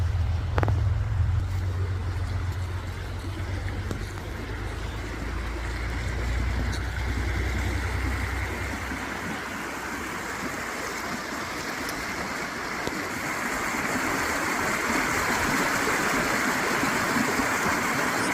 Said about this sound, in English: River's coming down from the mountain.